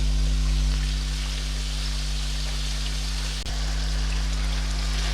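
Chicken for a shahi korma fries on high heat, a steady dense sizzle and crackle with a low hum beneath, continuous and close, with no talking.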